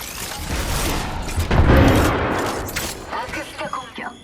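Bomb blasts and gunfire in a video game, loud and continuous: rolling booms and rattling bursts of shots fill the whole stretch and thin out toward the end.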